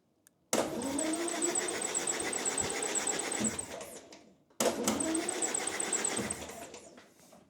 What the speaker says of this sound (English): we got a spinning engine